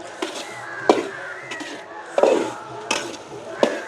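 Puttu being stirred and fried in ghee in a pan, giving a steady sizzle with repeated scraping stirs and a few sharper utensil knocks against the pan, close and moderately loud with no talk.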